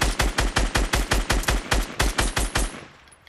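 Rapid automatic gunfire in the video game Fortnite, a fast regular burst of about fifteen loud shots that stops and trails off into a short echo.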